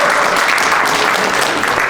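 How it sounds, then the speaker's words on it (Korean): Loud, dense applause from an audience at a construction workers' union leadership training event, filling the whole stretch as a steady wash of many hands clapping. "큰 박수 부탁드리겠습니다."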